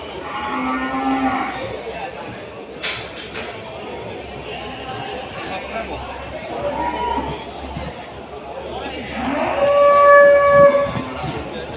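Cattle moo several times at a livestock market in Kudus during weighing, one long low call near the end standing out, over background chatter and general market noise.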